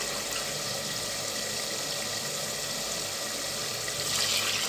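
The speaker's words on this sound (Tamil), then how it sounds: "அதுக்கு தகுந்த மாதிரி நம்ம தண்ணி சேர்த்துக்கலாம்" Water pours steadily onto soaked rice for fish biryani, a continuous close splashing hiss that grows slightly louder near the end, with no voices.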